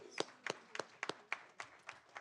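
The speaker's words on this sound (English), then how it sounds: "Round of applause." A few people at a school board of education meeting clap sparsely, roughly nine distinct hand claps spaced unevenly over two seconds, quiet and close.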